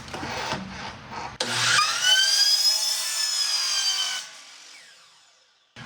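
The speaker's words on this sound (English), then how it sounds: "I'm cutting this pipe to 34 inches." Saw cutting 4-inch PVC pipe to length: after some handling knocks, a steady power-saw whine with a harmonic drone runs for a few seconds and then winds down to silence.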